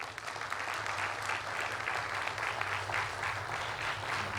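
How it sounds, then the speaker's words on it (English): Audience applause during a popular music director's speech, a continuous moderate clapping from a crowd with a low steady hum beneath, no speech. "If you do, then applaud me."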